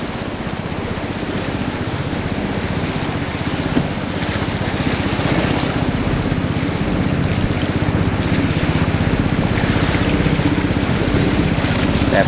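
Rapids on the Da River rush loudly around a small boat, a dense, continuous roar of churning water and wind buffeting close by with no clear talk.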